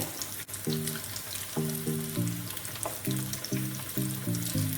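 Cheese corn dogs deep-frying in hot oil over a high flame, a steady bubbling sizzle with a few louder crackles, close and continuous, while a tonal hum rises and falls beneath it.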